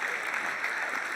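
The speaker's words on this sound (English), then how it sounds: "I think we should applaud that." Brief burst of audience applause at a gala dinner, a steady, moderately soft roll of many hands clapping.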